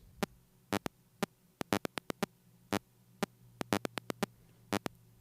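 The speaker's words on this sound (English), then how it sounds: "So they're basically just a little tick that you don't even hear the note." Ten layered, extremely short synth ticks built in Ableton, staggered slightly by track delay, sound as a brisk irregular run of sharp clicks over a faint steady hum, with no note body, alone.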